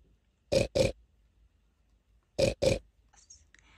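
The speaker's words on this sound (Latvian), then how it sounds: "Sīventiņš kviedz." Two pairs of short, high piglet squeals sound close and clear, each pair a quick double, with quiet gaps between them.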